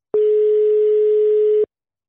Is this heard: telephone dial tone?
yes